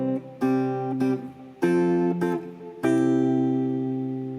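Guitar playing a chord melody of Twinkle Twinkle Little Star, four strummed chords ringing out one after another, clear and close, the last left to sustain and fade.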